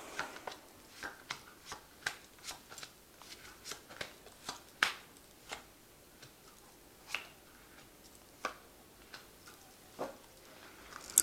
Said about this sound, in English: So I have shuffled this deck. I'm just going to draw some cards.